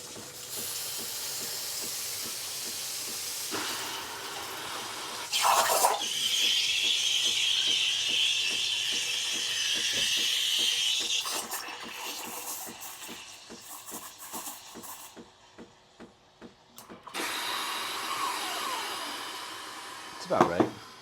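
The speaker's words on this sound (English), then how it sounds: "waiting for the steam to come out" Steam hisses steadily from a stovetop coffee roaster, a broad airy rush that swells, fades and returns in long stretches amid light handling noises.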